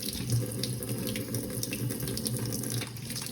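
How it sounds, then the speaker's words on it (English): Hands being washed under a running kitchen tap: a steady, moderate stream of water splashing into a sink, continuous and close, with no talking. "Wash my hands, hold on,"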